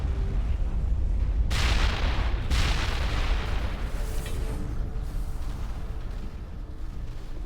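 Gunfire and blasts in the Mass Effect video game on Noveria, a dense run of loud booming shots that swells in bursts with no voices over it.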